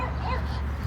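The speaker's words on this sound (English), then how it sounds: "sorry for the dogs barking," Dogs bark and yip in the background under a continuous layer of talk, with the barking blurred into steady room noise rather than standing out as clear separate barks.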